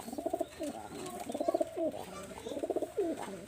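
A Royal Terry pigeon coos in repeated rhythmic bursts, close and clear, each phrase a pulsing low warble followed by short pauses.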